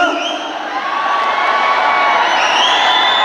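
A large fan crowd at Kichcha Sudeep's birthday celebration cheering and whooping loudly, a sustained roar of many voices with high shouts rising throughout.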